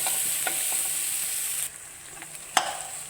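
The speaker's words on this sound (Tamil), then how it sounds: "இதை நல்லா ஒரு வதக்கு வதக்கணும் இந்த தக்காளி கொஞ்சம் நல்லா வதங்கி வரட்டும்" Onion, tomato and masala sauté in a hot pan for egg kothu idli, a close, crackling sizzle broken by spoon scrapes and one sharp clack near the end.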